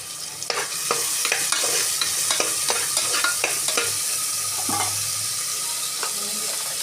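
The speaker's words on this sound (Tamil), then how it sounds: "கொஞ்சம் உப்பு போட்டு நல்லா வதக்கணும். அப்போ தான் வெங்காயம் நல்லா வதங்கும்." Small onions sautéing in hot oil with salt, a bright steady sizzle broken by repeated scraping strokes of a spoon stirring the pan, close and fairly loud.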